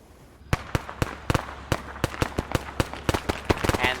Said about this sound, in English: And they are being fired upon already.